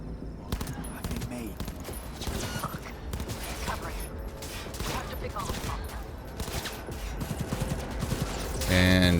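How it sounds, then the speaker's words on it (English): A Fenrir submachine gun rattles off rapid bursts in Cyberpunk 2077, with dense, closely spaced shots in several volleys. The noise gets louder and busier toward the end. "So just to demonstrate, here is the submachine gun."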